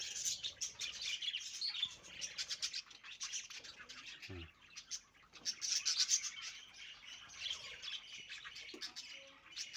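Pet canaries and quails chirp and twitter continuously in a busy, overlapping chorus of bright, close calls, with one soft low thump partway through and no talking.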